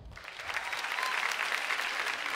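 Studio audience applauding on a Brazilian TV variety show, a dense steady wash of clapping that holds evenly throughout without speech.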